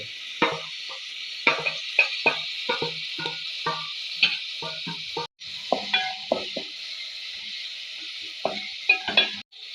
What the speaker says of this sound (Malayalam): അപ്പോൾ നമ്മൾ വെളിച്ചെണ്ണ ചൂടായിട്ടുണ്ടേ ആദ്യം നമ്മുടെ അരിഞ്ഞു വെച്ച സവാള ഉള്ളി എടുക്കാം പിന്നെ നമ്മുടെ ചെറിയ ഉള്ളിയെ